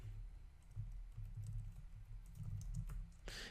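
Steady computer keyboard typing while JavaScript code is entered, with soft, quick keystrokes at a fairly even pace over a low background hum, ending in a louder burst of noise.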